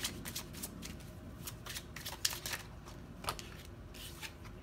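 Messages of Love oracle cards being shuffled by hand, a steady papery riffle with sharper snaps and taps scattered through it, close and fairly quiet with no talking.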